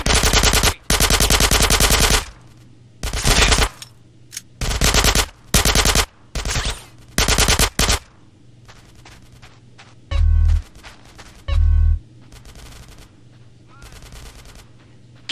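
Bursts of automatic gunfire in the shootout video game GTA San Andreas, loud rapid rattling volleys in an uneven rhythm during the first half, then sparser scattered shots and fainter pops, with occasional voices.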